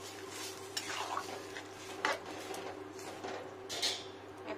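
Filtered water being stirred into a thin ridge gourd curry, with a spoon clinking and scraping against the pot in scattered knocks over a steady low hum.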